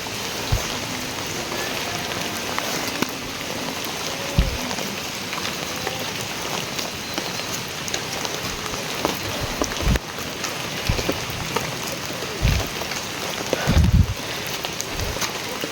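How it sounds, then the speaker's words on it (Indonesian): Steady rain pours down on a rocky village road, a constant hiss with occasional louder drips and thumps, close by and without talk. "Suasana yang sangat sejuk saat turun hujan, masya Allah."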